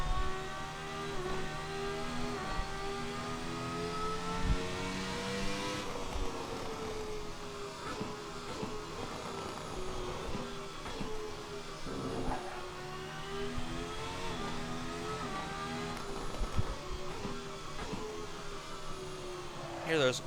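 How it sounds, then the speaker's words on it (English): Ferrari F300 Formula One car engine in Assetto Corsa, revving hard through semi-automatic gear changes with pops and crackles on the overrun, a steady loud engine drone with rising and falling pitch sweeps throughout. "there's wonderful backfires on the overrun"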